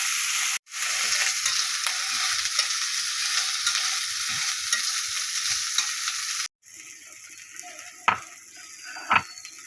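Cumin and potatoes frying in a pan make a loud, continuous sizzle that cuts out briefly twice, then returns quieter with a couple of sharp metallic taps near the end.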